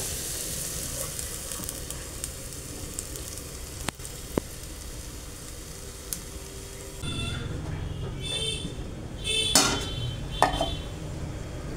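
Bay leaves and green chilies sizzling in a hot pan, a constant frying hiss with a few sharp clicks of utensils against the pan, brightening and crackling more strongly toward the end.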